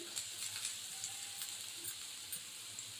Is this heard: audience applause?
no